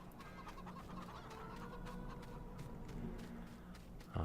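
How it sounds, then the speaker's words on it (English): Chickens cluck repeatedly as they roam a farmyard in Farming Simulator, a busy stream of short calls over steady ambient background with a brief thump at the end. "Chickens roaming about still."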